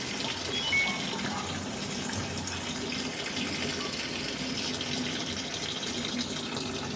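Automatic washing machine on a quick wash cycle, water gushing steadily into the drum as it fills, a continuous close rushing flow with no speech.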